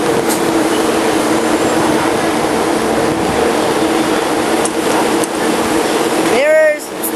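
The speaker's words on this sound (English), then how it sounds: "6:46 train. Big one." A big Grajau-line freight train rolls past the Vila Olimpia platform with a loud, steady rumble and metallic drone, ending in a sharp horn blast that sweeps upward just before the clip closes.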